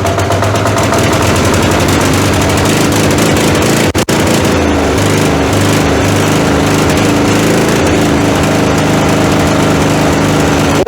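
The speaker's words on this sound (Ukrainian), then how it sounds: "Мінус 5 запустився дизельочок." A WEIMA diesel walk-behind tractor engine runs loud and close in cold weather at about minus five, a steady rapid knocking chug with a brief dip near the four-second mark, no voices.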